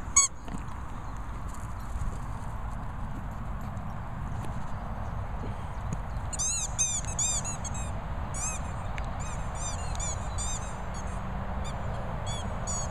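A dog's squeaky toy gives rapid, high-pitched squeaks in several clustered bursts, clear and close over steady rustling and scuffling background noise.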